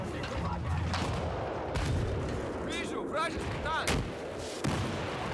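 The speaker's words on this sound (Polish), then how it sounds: "Strzał." Gunfire in the video game Battlefield 4, several sharp shots and booming reports scattered over a constant battlefield din, with a player talking over the action.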